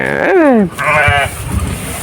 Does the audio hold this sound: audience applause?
no